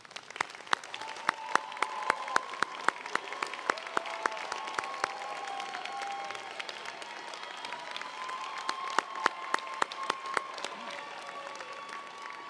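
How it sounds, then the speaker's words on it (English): Sustained audience applause at a UC Merced fall commencement ceremony, honoring graduates' family and friends: a steady, dense wash of many hands clapping in a large venue, with scattered louder claps and faint cheering throughout. "join me in a round of applause for the family and friends"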